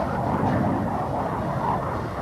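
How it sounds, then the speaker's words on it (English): A Crusader jet camera plane flies non-stop from Los Alamitos, California, toward New York, its engine a steady, loud, broad roar that holds constant without letup. "His Crusader jet camera plane leaves Los Alamitos, California, headed non-stop for New York with a sister plane."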